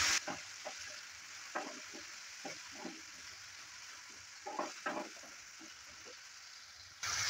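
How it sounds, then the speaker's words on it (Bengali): Pumpkin and fenugreek leaves frying in a pan while being stirred, a low sizzle under irregular scraping strokes of the spoon, close and fairly quiet. "সব কিছু দেওয়ার পর ভালো করে একটু নেড়ে চেড়ে নিচ্ছি।"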